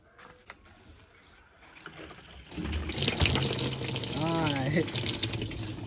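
Water runs steadily from a tap, growing louder after a few seconds, with a faint voice and splashing under the flow.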